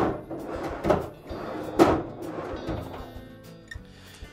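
Pantry drawer of a Kenmore refrigerator slides on its rails with rolling scrapes and two sharper knocks, close and moderately loud, with no talking.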